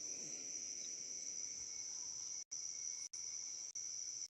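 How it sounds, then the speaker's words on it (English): Crickets chirping outdoors in a steady, high, unbroken trill, cut by a few brief gaps, with no voices. "can hear the crickets"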